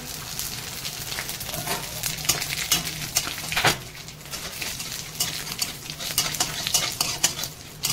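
Dry red chillies, bay leaf, cardamom and five-spice hit hot oil as a tempering for jamun pickle: a dense, continuous sizzle with frequent scraping stirs and light pan clatter throughout, close and without speech.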